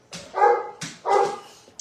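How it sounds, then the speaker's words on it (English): A dog barks twice, fairly close and loud, each bark a full, slightly drawn-out woof with a brief pause between them. "I will leave you as the dog is barking"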